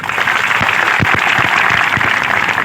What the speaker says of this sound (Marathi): चला टाळ्या वाजांसाठी